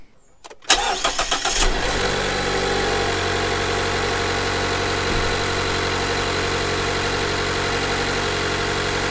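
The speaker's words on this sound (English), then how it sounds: "I'm going to start the vehicle's engine and just listen out around the airbox for any unusual suction or vacuum noises" A Mazda CX-5 engine cranks and fires up after a brief silence, then settles into a steady, even idle heard close up at the engine bay with the air filter housing, with no voices.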